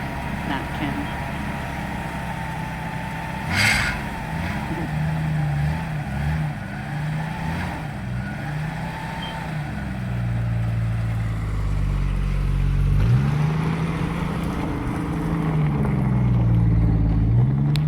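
An AMC project car that sat parked for years drives over, its engine rumbling low and steady throughout and rising louder toward the end, with some talk heard faintly at the start.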